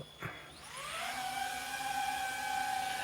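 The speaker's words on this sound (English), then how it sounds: "Yes, the drone is just about to take off." In an abandoned warehouse, a drone's motors whine up from a brief thump into a steady high-pitched buzzing hum that holds loud and close as it lifts off.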